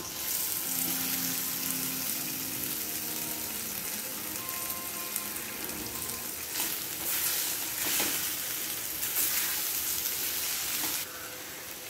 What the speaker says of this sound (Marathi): आता यामध्ये लगेचच आपल्याला हे उकडून चिरून घेतलेले बटाटे घालून घ्यायचे